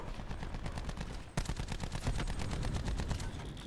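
Sustained machine-gun fire rattles in rapid, continuous bursts during a Call of Duty: Black Ops 4 match, loud and close with barely a break.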